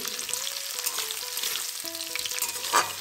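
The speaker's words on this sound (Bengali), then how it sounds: "রসুন, আদা, কাঁচা লঙ্কা একসাথে তেলে দিয়ে দেবো।" Garlic, ginger and green chillies fry in hot oil with a steady, close crackling sizzle and light stirring throughout, no voices.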